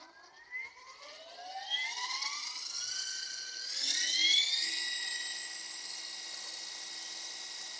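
A radio-controlled helicopter's electric motor spins up once throttle hold is released, a rising whine that climbs steeply in pitch over several seconds and then holds a steady high-pitched drone, close and fairly loud.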